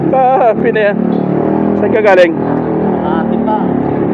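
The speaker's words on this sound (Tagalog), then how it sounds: "Malakasan talaga yung motor niya oh." A motorcycle engine revs loudly nearby on a Philippine street, a steady roar running under close, continuous conversation.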